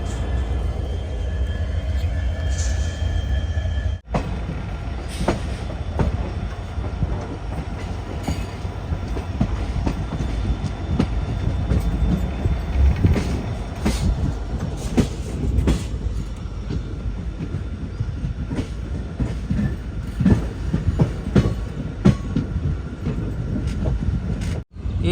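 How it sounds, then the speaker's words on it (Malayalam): A passenger train hauled by a WDG4 diesel locomotive pulls out of Lumding toward Guwahati. The wheel clatter and rolling rumble are loud and continuous, recorded close by for the full stretch. "6:10 ലംഡിങ് ഇതാ ട്രെയിൻ എടുത്തിരിക്കുകയാണ്."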